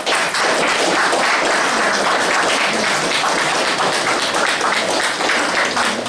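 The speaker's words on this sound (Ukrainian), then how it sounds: "давайте все-таки оплескою привітаємо Артуру Івановичу." A university audience, students and staff, claps to honor a colleague, giving thick continuous applause from many people at an even level throughout, with no voices over it.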